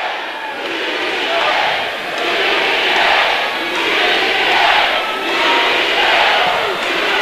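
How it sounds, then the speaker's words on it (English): A boxing crowd at a women's bout chants and shouts in rhythmic waves of support for a fighter, a loud, roaring mass of voices rising and falling in repeated swells, with a commentator speaking over it. "As the crowd shouts BDA."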